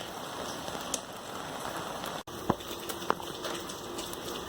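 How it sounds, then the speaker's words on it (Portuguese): Heavy rain pours outside during a storm, a steady broadband hiss of downpour with a couple of faint sharp drips or taps, no voices. "está caindo uma tempestade de água aqui nesse momento"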